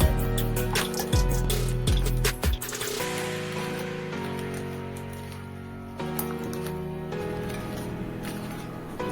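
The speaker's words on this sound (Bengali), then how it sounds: "একটু জল অ্যাড করে দিয়েছি দিয়ে বেশ ভালো করে একটু কষিয়ে নিচ্ছি" Crab and potato pieces stir-fried with spices in a pan after a splash of water, giving steady sizzling and wet bubbling with a few sharp scraping stirs near the start, fairly close and continuous.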